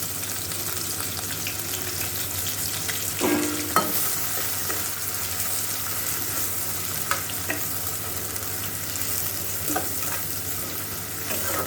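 Steady, low sizzling of chopped onions frying golden brown in oil with spices, with a few faint clinks and stirring scrapes; no voices.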